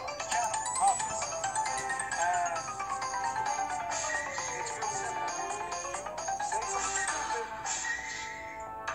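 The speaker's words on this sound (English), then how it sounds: "No, that was always a Crash Bandicoot sound effect." A cartoon-style sound effect from a Crash Bandicoot animation, a busy bright electronic jingle with sweeping pitch slides, fairly quiet and steady, with no talk over it.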